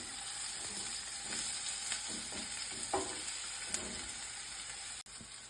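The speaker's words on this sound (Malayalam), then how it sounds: "അങ്ങനെ നമ്മുടെ ഫിഷ് ഇവിടെ വറുത്ത് വെച്ചിട്ടുണ്ടേ" Fish fries in hot oil in a pan for a homemade fish biryani. There is a constant close sizzle, with small pops and stirring scrapes through it and a sharp clack near the end.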